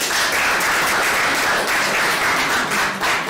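Audience applause at a tech startup pitch event fills the room, a steady, dense wash of clapping at close range that continues throughout without any talk over it.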